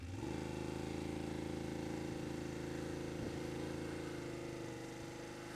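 BMW F750GS motorcycle engine pulling away in first gear, a steady, close mid-pitched engine drone with a slight rise in revs as it moves off, with no speech over it.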